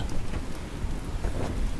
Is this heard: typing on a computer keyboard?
no